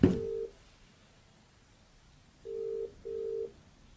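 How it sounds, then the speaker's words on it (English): A home landline rings in a quiet room after a call is placed from a Polar M600 smartwatch: an electronic tone at the start, then two short steady ring bursts close together after a pause. "And my home phone is ringing."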